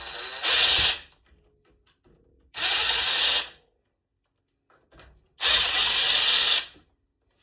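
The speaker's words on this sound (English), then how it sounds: "This is what I will use my drill on." A power drill backing screws out of a door latch, three close, loud whirring bursts of about a second each separated by quiet pauses with faint handling sounds.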